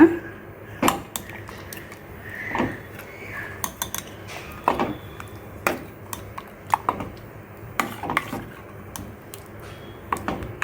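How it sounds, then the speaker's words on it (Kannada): A spoon stirs thick curd into a traditional bottle gourd dish in a pot, with clinks and scrapes of metal against metal. The clicks are irregular, close and moderately loud over a low room hum. "ಇವಾಗೊಂದು ಸಾರಿ ಚೆನ್ನಾಗಿ ಮಿಕ್ಸ್ ಮಾಡೋಣ"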